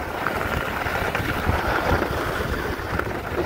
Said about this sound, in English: There's some wind, but not too much.